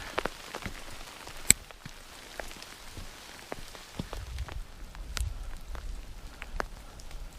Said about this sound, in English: And the hail's coming down.